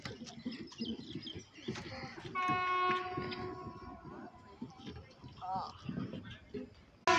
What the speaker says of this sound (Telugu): ట్రైన్ పోతుంది జీ అని